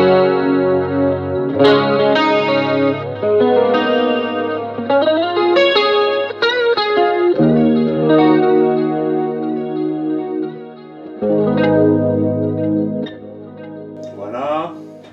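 Electric guitar played through a Boss GT-1000 multi-effects unit on a preset, a dense, distorted rhythm tone with chorus and effects, sustained chords and riffs filling the whole stretch with no talk over it.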